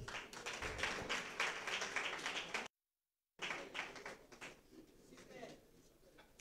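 An audience applauds at a graduation ceremony for a masterclass academy, producing dense, steady clapping that breaks off briefly, then resumes and thins to scattered claps.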